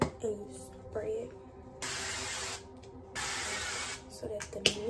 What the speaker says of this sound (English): it's like cooking oil. And you spray it.